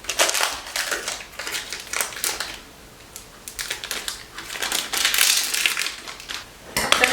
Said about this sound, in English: we're just going to cut this into pieces